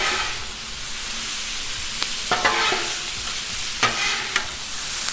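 Shrimp fajitas with mixed veggies sizzle loudly and steadily on a Blackstone griddle, with a few sharp scrapes and taps of a spatula as they are stirred.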